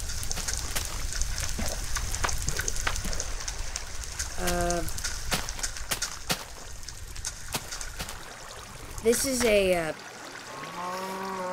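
Steady rushing, trickling water in Minecraft, channelled through water tunnels into the corners of a 16 by 16 mob trap, runs continuously under a man's speech and sharp clicks, with brief tonal game sounds near the end.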